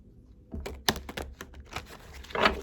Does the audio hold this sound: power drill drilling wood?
no